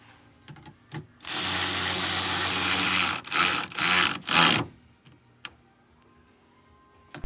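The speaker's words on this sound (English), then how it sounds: "zapping all those bolts in." A power driver runs in a long steady whir, then a few shorter bursts, while bolts are driven into a 2024 Ford Bronco hard top. Close and loud, with faint clicks and taps before and after and no talking.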